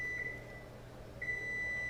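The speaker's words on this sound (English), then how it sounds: "That's the oven." Two steady electronic beeps from a kitchen oven timer, each about a quarter second long, sounding a second apart over a low household hum, fairly faint and with no voices.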